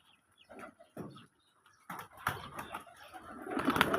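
Pigeons coo in a small flock of domestic birds, soft throaty calls in short bursts with pauses, then rising flutter and busier cooing toward the end, fairly close and unaccompanied by talk.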